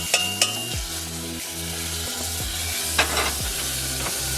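Butter sizzling and frying in olive oil in a pan, a steady hiss under repeated stirring scrapes and a few sharp clinks of a utensil against the pan, close and continuous.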